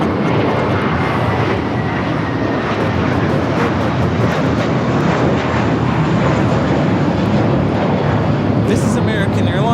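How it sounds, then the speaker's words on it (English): An American Airlines A321 jet takes off from LAX, its engines giving a loud, steady roar that fills the whole stretch without pause, with faint voices under the noise. "This is American Airlines Flight 274 taking off to JFK on the A321"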